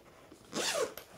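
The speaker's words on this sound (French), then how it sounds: "Il a une fermeture éclair" A zipper on a fully lined, sewn fabric shoulder bag is pulled once in a single quick, close rasping stroke lasting about half a second, with a faint click at the end and near silence around it.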